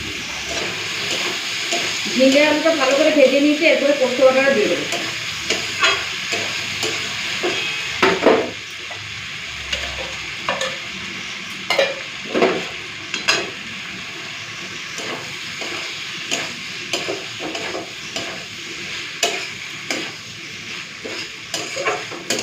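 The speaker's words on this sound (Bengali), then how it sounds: "এখন পুরোপুরি গ্যাসের ফ্লেমটাকে হাই করে ঝিঙেটাকে আলুর সাথে ভেজে নেব" Ridge gourd and potatoes frying together over a high gas flame, with steady sizzling and scattered stirring clatters from near the pan; no one speaks.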